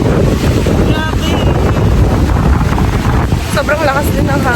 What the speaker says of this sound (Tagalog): Sobrang lakas din ng hangin.